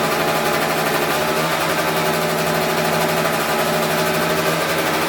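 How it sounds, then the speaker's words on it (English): A scooter engine idling with a surging idle while the idle mixture is being adjusted: a close, continuous buzzing drone that holds fairly even throughout, with no speech. "The bike is a lot more responsive, but the idle is surging."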